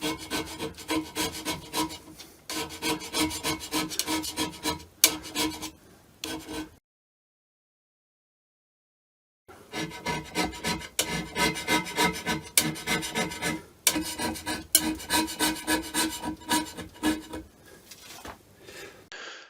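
Hand scraping with a flat, dulling blade on the top surface of a Myford ML7 lathe, a steady run of raspy rubbing strokes that breaks off into silence for a few seconds and then resumes, close and alone.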